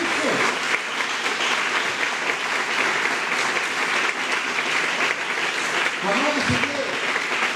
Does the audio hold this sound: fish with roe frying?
no